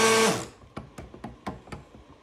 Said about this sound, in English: This is the stick blender.